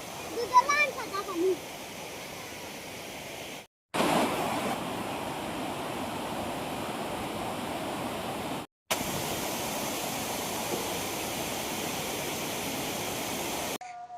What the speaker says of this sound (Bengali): ঝর্ণার শব্দে চারদিকে শুধু শন শন করতেছে